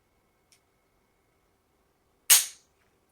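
A single sharp click from a Bushmaster XM15E2S rifle trigger being pulled during a trigger-weight test, loud and close with a quick decay, preceded by a faint tiny tick; no talking.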